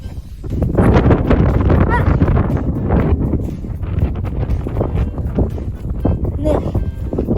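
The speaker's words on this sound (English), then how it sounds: "Yeah, it's pretty windy." Strong gusts batter the microphone outdoors by a sandy seashore, producing loud, rumbling buffeting that rises and falls throughout, with no speech audible.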